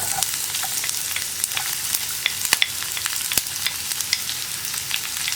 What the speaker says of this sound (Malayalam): ഇനി നമ്മൾ കട്ട് ചെയ്ത് വെച്ചിരിക്കുന്ന സവോള ചേർത്ത് കൊടുക്കാം.